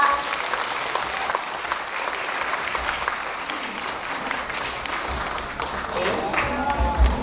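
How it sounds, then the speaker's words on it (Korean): An audience of local residents at a citizens' town-hall meeting in Sejong, South Korea claps in welcome, a steady, dense round of applause holding for several seconds and swelling slightly near the end. "다 같이 환영의 박수 부탁드립니다."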